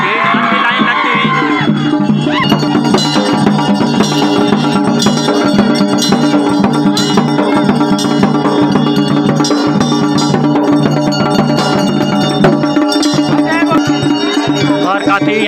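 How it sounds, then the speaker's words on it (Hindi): Dhol and damau drums beat steadily at a crowded Himalayan temple fair, with dense rhythmic thumping and bright metallic clatter filling the scene continuously, loud and close amid the bustle of a large gathering. "हमारे वाद्य यंत्र देखिए ढोल दबाव काफ़ी अच्छी थाप"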